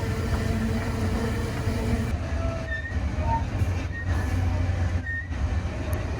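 A Rocky Mountaineer passenger train travels through the BC interior between Kamloops and Vancouver, giving a loud, steady rumble of wheels on rails with faint squeals and clicks along the way.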